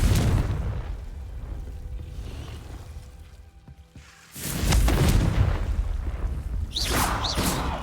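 Confringo blasting spell in Hogwarts Legacy: a loud broadband explosive burst erupts partway through after a quieter rumbling stretch, followed by sustained roaring debris and a couple of sharp crackling whooshes near the end.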